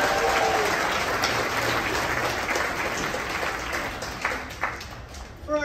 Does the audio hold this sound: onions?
no